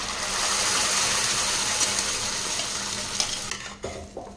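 Ground masala paste being stirred into a pan of softened onions, a steady close sizzle with scraping stir strokes, easing off near the end into a few clinks of utensil on metal.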